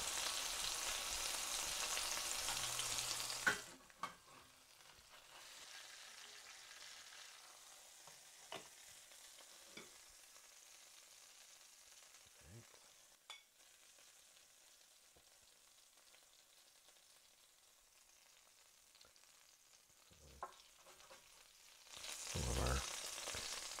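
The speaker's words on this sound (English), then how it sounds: "We're just going to have to scrape this under there and try to get a hold of all of this." Tomatoes sizzle and fry on a campfire griddle with a steady crackle, broken by scattered scraping taps of a utensil and louder bursts of frying at the start and end.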